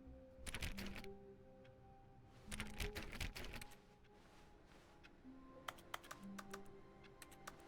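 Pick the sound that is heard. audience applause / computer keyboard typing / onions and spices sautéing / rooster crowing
computer keyboard typing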